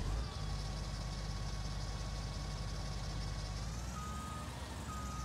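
Steady electronic reversing beeps from a farm vehicle in Farming Simulator 19, repeating evenly over a continuous engine rumble, loud and close with no talking.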